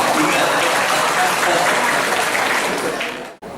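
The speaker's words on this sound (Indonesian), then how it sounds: "Boleh tepuk tangan, nggak apa-apa, itu tepuk tangan." Audience applause at the inauguration of a new regional hospital building in Gunungsitoli, Nias, a dense, steady wash of clapping that holds loud throughout before cutting off abruptly near the end.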